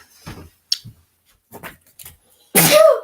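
A single loud, close sneeze bursts out at the end after quiet bits of movement and faint murmuring indoors while a Christmas tree is being set up.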